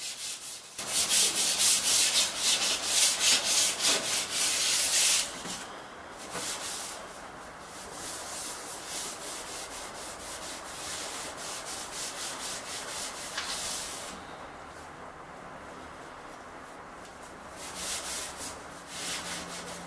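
The hood of a vintage garden tractor is sanded before painting, with a steady, close rasping scrub that runs for several seconds, eases off, then continues more softly through a long stretch with no talking.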